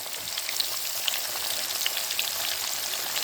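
Liver frying in oil in a pan with a little added oil, a steady close crackling sizzle with fine spitting pops throughout.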